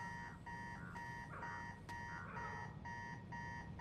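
An alarm clock rings in Marvel's Spider-Man 2 video game, a faint, steady pulsing electronic beep repeating in short even bursts throughout.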